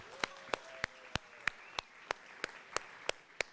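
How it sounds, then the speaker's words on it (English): Clapping at a church Sunday service rings out in about a dozen sharp, evenly spaced claps, moderately loud against a quiet hall with a faint tonal hum. "You can clap all you want."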